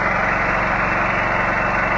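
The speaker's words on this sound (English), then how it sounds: "It slows the engine down to a kind of an idle" A gasifier-fed engine in eco mode is slowed to a kind of idle, giving a loud, steady, even drone with a regular low pulsing throb and no voices.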